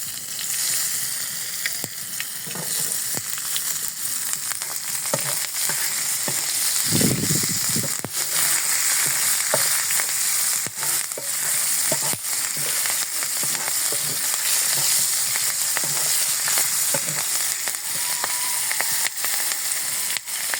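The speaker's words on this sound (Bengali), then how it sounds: "একটু মরিচটা ছিটে আসবে ফুটে" Chili frying and spluttering in hot oil for tomato chutney, a steady loud sizzle with scattered sharp pops and crackles throughout, one brief thump of stirring partway, no voices.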